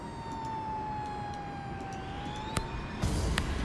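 Emergency sirens from a rescue video game, a steady wailing tone that slowly falls and rises, with a couple of short sharp clicks near the end, heard alone without talk.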